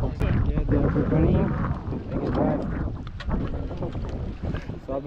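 A boat moves across water at a falcon festival site, wind buffeting the microphone over a churning rush of water and engine, loud and close, with people talking over it.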